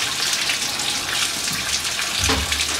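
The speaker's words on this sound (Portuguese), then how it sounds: "Isso só na água caindo ali, sem pressão." Water leaking and splashing from several points of a Honda Civic's worn cooling system, a close, steady unpressurized trickling and gushing with a heavier splash near the end, no voices.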